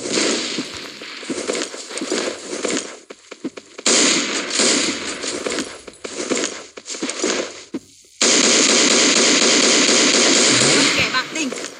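An AF-12 shotgun fired in a shooter video game, heard as loud, dense bursts of booming shots in long stretches with brief breaks, while a voice talks over the gunfire.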